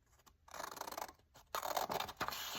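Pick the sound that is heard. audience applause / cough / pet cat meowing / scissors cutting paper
scissors cutting paper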